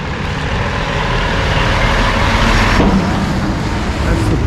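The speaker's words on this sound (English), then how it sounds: "that's the third truck to come by in the last couple minutes" A truck passes close by on a waterfront road near the Bass Harbor, Maine lobster boat harbor in January, a loud broad roar that builds and then eases off at the end.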